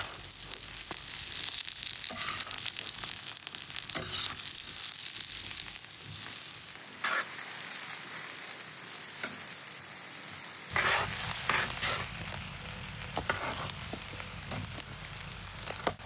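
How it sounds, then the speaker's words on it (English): Onions frying for tandoor-roasted lamb, a continuous close sizzle with occasional stirring scrapes and crackles and no talk. "On top, the onions, for softness and sweetness. Once they fry, you'll get that caramelized flavor."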